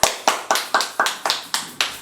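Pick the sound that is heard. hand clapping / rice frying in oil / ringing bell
hand clapping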